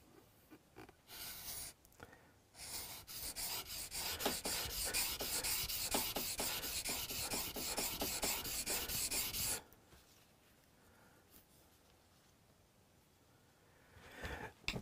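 A steel chisel is honed on its beveled side at a luthier's bench: a close run of rapid, rhythmic rasping strokes, loud and even, that stops abruptly, leaving quiet room tone.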